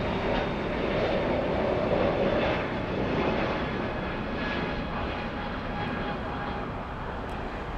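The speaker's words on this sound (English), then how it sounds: "Remember, it's the plane that sounds like a train for some reason." A Max Air Cargo plane flying overhead near LA, its heavy engine drone rumbling like a passing train, loud and steady throughout with no pause.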